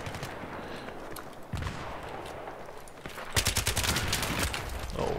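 SCAR-L rifle gunfire in Battlefield 3, with scattered distant shots early on, then a loud, fast string of close rifle reports over steady battlefield noise in the final seconds.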